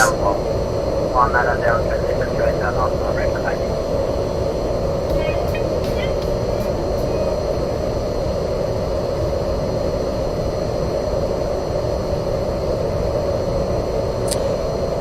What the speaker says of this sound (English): This aircraft is so loud